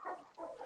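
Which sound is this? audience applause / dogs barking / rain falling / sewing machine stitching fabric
dogs barking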